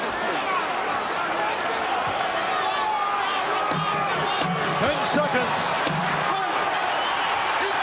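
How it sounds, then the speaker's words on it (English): Boxing crowd roaring and cheering steadily in a convention hall during a Foreman versus Holyfield heavyweight fight, a dense continuous wall of noise with a commentator talking over it. "The crowd is on their feet here at the convention hall."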